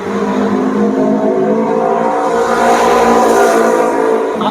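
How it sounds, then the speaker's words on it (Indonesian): A noisy motorbike passes close by, its engine drone swelling in loudness toward the middle and then easing off as it moves away. "Aku benci sekali motor berisik"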